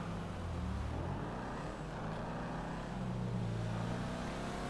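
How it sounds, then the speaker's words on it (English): A V8 engine in a Corvette classic in GTA 5 gives a low, grumbling drone that holds steady and close, with a slight lift in revs near the end and no talk over it. "This just has a grumble sound of a V8."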